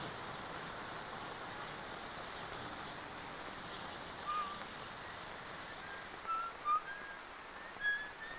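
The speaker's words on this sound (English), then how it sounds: "What's that you're whistling? Wait till the sun shines, Nellie?" A man whistles 'Wait till the Sun Shines, Nellie', heard only as a few short, faint whistled notes near the end, set against a steady, soft background hiss.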